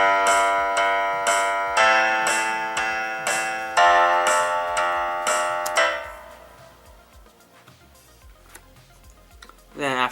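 A finished home-produced song plays back, a bright bell-like keyboard melody striking in regular repeated chords for several seconds before dropping to a softer, sparser texture, then a final sudden swell.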